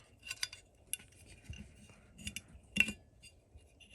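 Small metallic clicks and scrapes from fitting a magazine release into an AR-15 lower receiver, several sharp, quiet taps spaced irregularly against a near-silent background.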